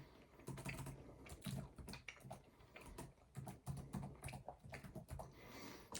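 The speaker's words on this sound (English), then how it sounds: "By the way, typing with one hand," Slow keyboard typing on a computer, done with one hand: irregular clusters of close, crisp key clicks running steadily throughout with brief pauses, no voices.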